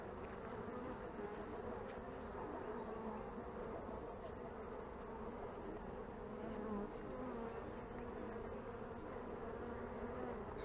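Honeybees buzz continuously around open hives during a brood check, a dense, steady drone close by with a few louder individual passes and no voices.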